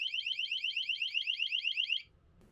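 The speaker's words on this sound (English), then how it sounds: "If there's a leak, it alarms." An RV water leak sensor alarm gives a rapid, piercing electronic trill of quick repeated beeps for about two seconds, then stops, leaving only faint low background noise.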